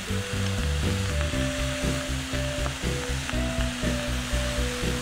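Marinated beef sizzles in a stir-fry pan, a steady broadband frying hiss that stays loud and close throughout, with faint tonal hum underneath and no talking.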